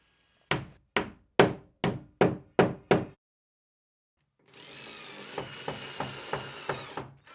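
A power drill drives screws through a sliding shower enclosure profile into a bathroom wall: seven sharp, evenly spaced knocks, a short pause, then a steady whirring run broken by rhythmic pulses.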